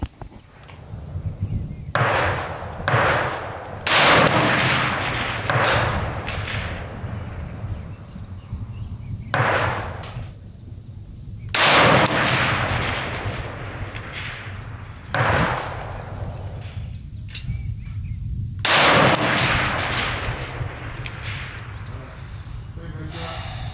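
A CMMG Endeavor 300 rifle chambered in 6mm ARC fires Hornady Black ammunition on a long-range course, with several loud, widely spaced shots, each a sharp crack trailing into a reverberant decay over a continuous outdoor rumble.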